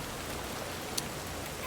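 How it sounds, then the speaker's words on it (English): Heavy rain pours in Cyberpunk 2077 as a dense, even hiss of falling water, with a faint splash or two standing out briefly, and no voices. "Jesus, it's raining so much here."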